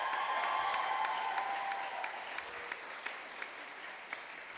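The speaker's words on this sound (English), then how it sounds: "Give yourselves a round of applause." Graduates at a university graduation ceremony applaud together in a steady, dense wash of clapping that gradually thins toward the end, with a faint tone in the first half and scattered louder individual claps.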